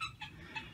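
Chickens kept for manure in a backyard garden cluck in a brief, soft burst of a few quick clucks, faint and somewhat distant, with no talk.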